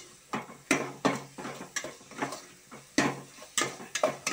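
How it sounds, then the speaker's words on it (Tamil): A spoon scraping and knocking around a cooking pot while coriander, mutton masala and cumin powders are stirred in, a series of close, evenly spaced scrapes and clinks. "மல்லிப்பொடி, மட்டன் பொடி, ஜீரக பொடி, இது 3 மிக்ஸ் பண்ணி நல்லா கிண்டி விடணும்"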